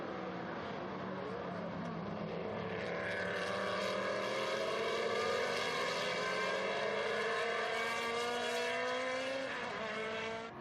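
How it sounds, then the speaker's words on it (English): Two Lola T70 Mark III B historic race cars at the Estoril Classics circuit howl past under braking, a loud continuous engine roar with shifting, sliding pitch that rises and falls as the cars pass close. "it's going to be the two white and green striped Lola T70 Mark III Bs into the braking area."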